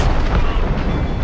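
Ship cannon fire in the naval battle video game Assassin's Creed Rogue, a loud, dense rumbling blast filling the whole short moment, close and heavy.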